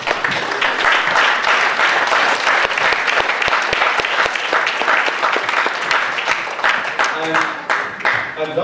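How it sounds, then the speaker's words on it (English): Sustained audience applause for teachers at a school matric event, dense loud clapping from a crowd that continues steadily for several seconds, with cheers and voices mixed in and a slight easing toward the end. "So a round of applause, I think, is going to be fitting to all the teachers."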